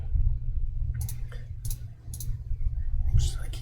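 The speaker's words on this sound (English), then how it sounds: "I keep clicking with the wrong cursor." Computer mouse clicks during a heap test run, a few short sharp taps spread across the moment over a steady low hum, close and moderately loud.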